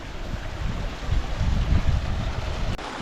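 Steady rushing water from a mountain stream draining toward a waterfall, a continuous broadband wash with a low rumble, close and loud, with no voices.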